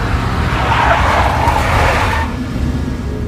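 A big black Mercedes skids in Max Payne 3, a loud, smeared tire screech that swells over the first two seconds and then cuts out, leaving a low engine rumble alone.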